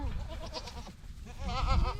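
Goats bleat close by, a couple of quavering calls with a louder, wobbling bleat near the end, over low background rumble.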